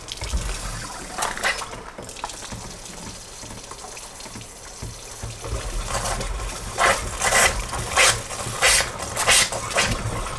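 Tap water contaminated with methane from fracking gas drilling runs steadily and loudly from a faucet. Toward the end a series of bursts breaks through the gush, like the gas catching and flaring.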